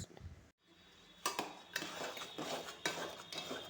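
Metal utensils scrape and clink against a pan on the stove in irregular strokes, stirring wheat flour and ground jackfruit, close by, with brief pauses between stirs and no talking.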